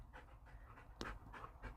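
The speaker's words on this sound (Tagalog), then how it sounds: "Here's my two dogs." Two pet dogs pant quietly and steadily nearby, a soft rhythmic breathing over low background rumble with one brief louder rustle midway.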